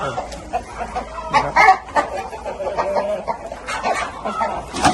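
Phu Phan chickens cluck and crow intermittently in a rural coop during moulting season, close by, with a dog barking and someone talking over them.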